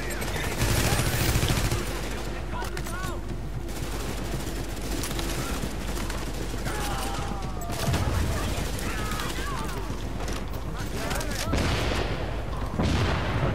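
Rapid bursts of gunfire in The Division at Grand Central Station crackle almost continuously, with louder volleys and booms layered over a busy, dense soundscape.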